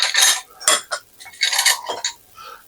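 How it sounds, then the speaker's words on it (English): A big spoon scrapes and clinks through a syrupy croissant bread pudding mixture with apple and peach, making several close, loud bursts of metallic stirring with brief pauses between them. "Let's just stir that around."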